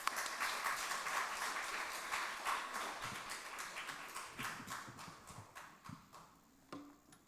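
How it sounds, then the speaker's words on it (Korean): A church congregation applauds to welcome a visiting pastor, a dense burst of clapping that starts loud and gradually thins into scattered claps before fading out. "큰 박수로 환영하도록 하겠습니다"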